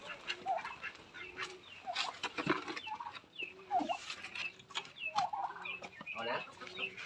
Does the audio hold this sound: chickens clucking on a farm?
yes